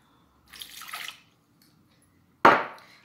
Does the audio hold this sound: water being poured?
yes